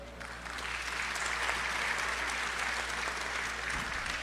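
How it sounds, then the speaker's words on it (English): Steady, sustained audience applause at a town hall meeting on crime, dense clapping filling the space at moderate loudness without pause, continuing evenly throughout. "Please let's give him a round of applause"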